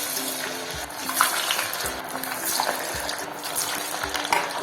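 Cabbage vadai sizzling in hot oil in a pan on the stove, a steady close crackle and hiss with faint intermittent clicks and stirring sounds, no voices.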